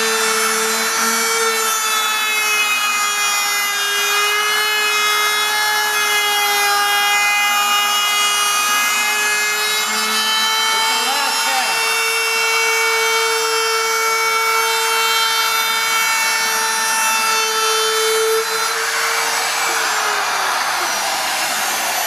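Handheld flush trim router cutting along a wood edge: a loud, steady high-pitched whine with a strong harmonic ring runs continuously near the mic, easing off and dropping in pitch at the very end.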